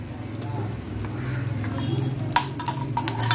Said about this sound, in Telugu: ఇప్పుడు కొంచెం ఒక 10 రెబ్బలు వెల్లుల్లి వేసుకుందాం.